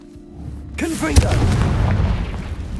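A Confringo fire spell blasts in Hogwarts Legacy, bursting into a heavy boom followed by sustained crackling rumble, with a brief voiced exclamation riding over the start.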